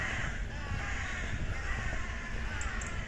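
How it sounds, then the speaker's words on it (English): Crows caw repeatedly in a cemetery, harsh calls blending into a continuous outdoor chorus at moderate distance, with no voices. "Look at them birds."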